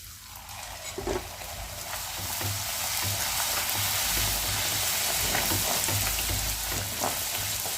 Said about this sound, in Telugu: ఆయిల్ అనేది వేడెక్కిన తర్వాత పూరి అనేది వేసేసుకుందామండి